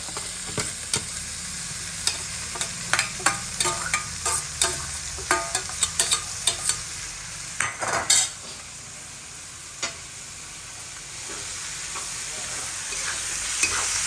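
Vegetables with peas, garlic, green chillies, spring onions and chopped onions frying in a pan, with a steady sizzle under a run of rhythmic spoon-scraping stirs that fade into calmer sizzling near the end. The sound is close and moderately loud, with no talking.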